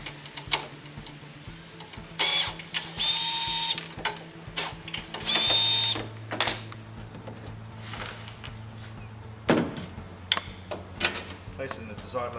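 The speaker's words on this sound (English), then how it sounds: "So I'll have to use my cordless drill to take these nuts off." Short bursts of a cordless drill with a 7/16 bit whirring in reverse to remove nuts from a floor-mount enclosure, several spaced runs with mechanical clatter and handling noises between them, close up.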